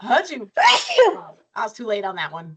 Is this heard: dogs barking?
no